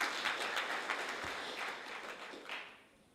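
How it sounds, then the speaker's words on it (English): A school audience of parents and new students claps briefly for a student congress member, a soft, fairly distant patter of hands that thins out and fades over about three seconds. "Let's clap for him."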